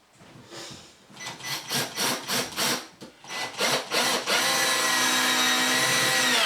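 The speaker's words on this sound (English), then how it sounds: "So we're now going to run these screws in at every 150mm." A power driver runs self-countersinking screws through plywood sheeting into floorboards: a string of short, rhythmic grinding bursts, then a loud, sustained whine as a screw drives home, close up and without talk.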